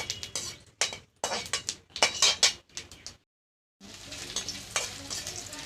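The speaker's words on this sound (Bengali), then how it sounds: "জিরা আর শুকনা লঙ্কা ভাজা হচ্ছে" Cumin and dried chillies frying in oil in a wok, with loud close bursts of sizzle and spatter broken by rhythmic stirring scrapes, a brief pause, then a steady crackling fry.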